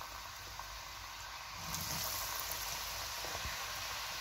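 Potato pieces for French fries frying in hot oil in a pan: a steady, close broadband sizzle that swells louder partway through and holds, with small pops and no talking.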